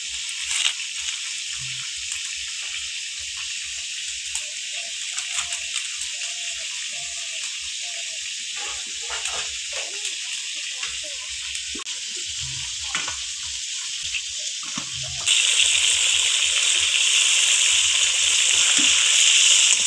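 Pieces of catla fish fry in a pan of hot oil with a steady broadband sizzle, punctuated by faint clinks and stirring scrapes, which grows louder and harsher for the final few seconds.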